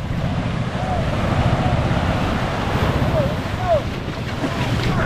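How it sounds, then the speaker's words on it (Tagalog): Rough typhoon water surges around a small service boat, a steady broadband wash of waves and wind buffeting the microphone, with people's voices calling out faintly beneath the roar. "Malalaki ang alon."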